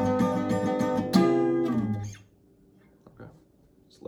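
Guitar with a capo playing the intro of a song at a slowed pace, a few ringing picked chords and notes that die away into near silence after about two seconds.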